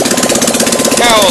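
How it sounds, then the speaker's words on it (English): Stripped Fiat 126 652cc engine with its cowling removed, running bare with a fast, even mechanical chatter and throb, loud and close, while someone talks over it. "as you can see, it's actually running quite smoothly now"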